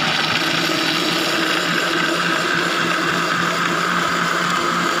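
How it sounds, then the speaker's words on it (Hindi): Blender grinding mango, milk and ice for a milkshake, a loud continuous whirring motor drone up close, steady throughout with no voices. "और फिर इसको अच्छे तरीके से ग्राइंड कर लेंगे।"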